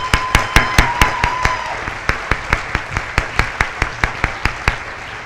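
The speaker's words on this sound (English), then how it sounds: "let's just have a applause for all of them" Applause for team members at a youth symposium, heard as sharp, evenly spaced claps, one after another in a steady rhythm, close and fairly loud, with a faint tone early on.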